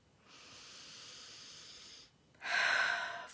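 Two slow, audible breaths drawn in close to the microphone, the first long and soft, the second shorter and louder after a brief pause, otherwise quiet.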